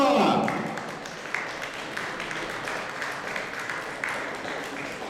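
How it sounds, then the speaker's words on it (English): Audience applause greeting an actor at a horror fan convention Q&A, a broad clapping crowd at a distance that swells at the start and carries on at a moderate level, with a voice briefly over it at first. "give a warm welcome applause to Mr. Tom Sizemore."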